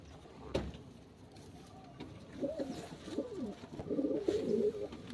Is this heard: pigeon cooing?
yes